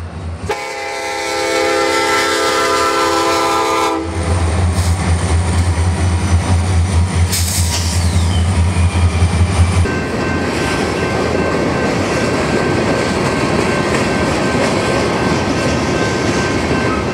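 N-trak model railway train at a UK convention, with a game-style mainline soundtrack: a loud sustained chord-like horn blast, then deep diesel rumble and rolling track noise with a brief whistle, steady throughout with no talk.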